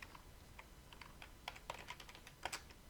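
Typing on a computer keyboard while setting up a development tool, a quick irregular run of light key clicks heard close and alone, with a few firmer taps toward the end.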